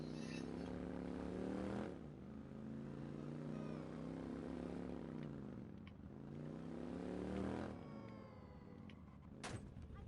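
A motorcycle ridden through city streets in Watch Dogs, its engine droning and rising and falling in pitch with gear shifts, steady and fairly close, a sharp crash-like hit near the end.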